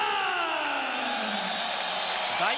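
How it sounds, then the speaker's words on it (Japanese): An arena crowd at a K-1 kickboxing event in Melbourne roars for Australian champion fighter Mark Hunt, a loud, sustained wall of cheering and whooping that holds steady from start to finish. "大歓声です。"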